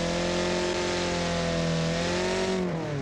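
A custom lifted truck engine in the BeamNG video game revs up steadily and loudly, its droning tone climbing through a gear then dipping at a shift near the end, heard alone.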